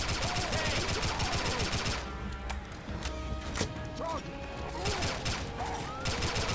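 Rapid automatic gunfire in Left 4 Dead 2 rattles through the first two seconds and resumes near the end, with scattered shots and game effects between, under a busy mix of sound.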